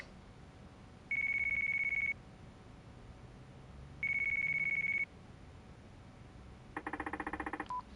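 Two long steady electronic ring tones, then a rapid burst of pulsing beeps, come from a mobile phone ringing in the Yakuza 4 video game over a low background hum.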